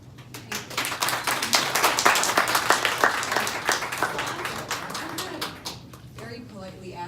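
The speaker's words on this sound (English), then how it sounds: "refrain from clapping or applauding or saying anything when somebody speaks or when they end" Audience applause at a town hall meeting on a ballot proposal in Dearborn, a dense spell of many hands clapping that stays steady for several seconds and then thins out, with a few voices and some murmur underneath.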